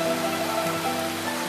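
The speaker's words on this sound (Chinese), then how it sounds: "下雨了，我太兴奋了，我终于见到下雨了。" Steady rain falls throughout, a dense continuous patter on surfaces with faint tonal hum beneath, no voices present.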